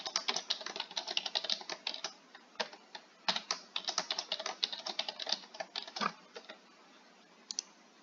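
Rapid, irregular keystrokes on a computer keyboard while a password is entered, close and crisp in bursts, then slowing to a few isolated taps near the end with no talking.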